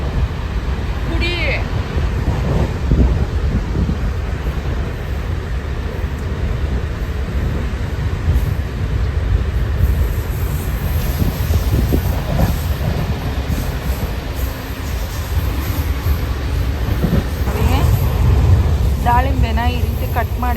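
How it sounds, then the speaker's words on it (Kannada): A fast-moving express train rumbles steadily with a continuous low roar and rail clatter throughout, heard up close from onboard, with faint voices in the background. "ಎಷ್ಟು ಫಾಸ್ಟ್ ಹೋಗ್ತಿದೆ ಗೊತ್ತಾ ಟ್ರೈನು"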